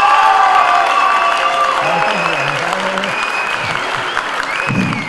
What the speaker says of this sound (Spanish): Aplauso para García.